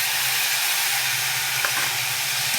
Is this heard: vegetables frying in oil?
yes